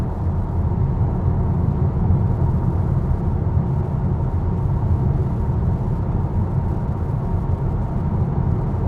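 Skoda Enyaq Coupé RS electric car driving, heard as a steady, loud broadband road and rolling rumble throughout with no breaks.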